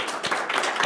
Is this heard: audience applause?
yes